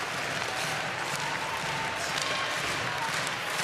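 A large crowd cheers and roars in an ice hockey arena during a women's world championship semifinal between Canada and Finland, a steady, dense wash of noise at moderate distance with faint clapping mixed in.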